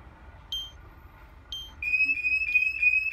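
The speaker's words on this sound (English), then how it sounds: "So this is going to trigger an alarm, and you're going to hear what this does." A SimpliSafe home security system, tripped by a door entry sensor, gives two short beeps a second apart, then breaks into a loud continuous pulsing alarm tone.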